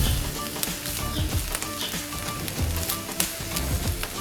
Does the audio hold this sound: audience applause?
no